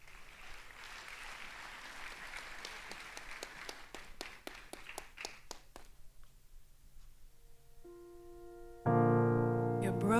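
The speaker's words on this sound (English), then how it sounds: "Let's give her a round of applause." Audience applause at a school induction ceremony, a moderate, distant patter of clapping that thins out and fades, then music starts.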